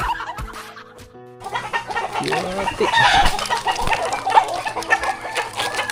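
Chickens cluck and squawk close by over rustling and background noise, following a brief spoken word at the start.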